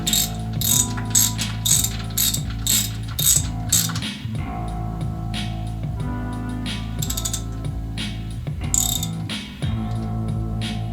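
A ratchet wrench clicks rapidly and loudly in bursts while tightening the top engine mount bolt on a 1991 motor being fitted into a 1996 vehicle, with steady mechanical ratcheting throughout and no speech.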